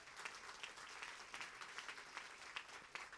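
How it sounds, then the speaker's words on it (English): Audience at a closing keynote of an annual CUNY BMI conference applauding steadily, a dense patter of many hands at moderate distance, fairly soft and even throughout. "Let's give Rashid a round of applause"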